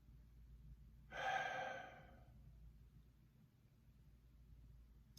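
Single deep, breathy exhale during a guided breathing exercise, about a second long and close, fading into quiet room hiss.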